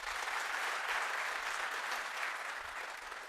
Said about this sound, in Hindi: तो जोरदार तालियां आपके लिए।